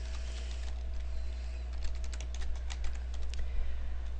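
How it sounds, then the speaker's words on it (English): A URL being typed on a computer keyboard, rapid clusters of crisp key clicks close up over a low steady hum, with no one speaking. "I'm going to type in my URL."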